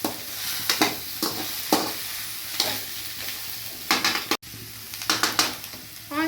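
Paneer butter masala is stirred in a pan with a spoon, a close sizzle under repeated scraping strokes and clinks against the pan in an irregular rhythm.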